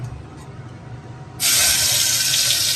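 Gravy poured into hot oil in a pan for a Gujarati kaju gathiya sabzi, a sudden loud hissing sizzle that bursts in midway and stays steady and close after a quiet start.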